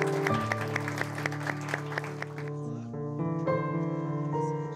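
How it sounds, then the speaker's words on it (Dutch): Applause from an audience at a municipal year-review event in Mol, rippling beneath sustained music with a strong tonal bed throughout, steady and moderately loud. "een daverend applaus voor hun."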